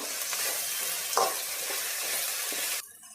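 Okra sizzling in a frying pan with steady hiss and occasional stirring scrapes, continuous and close until it cuts off near the end.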